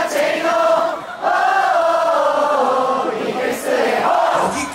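A large baseball stadium crowd chants a rhythmic cheer in unison, with a short break and a swell of cheering near the end.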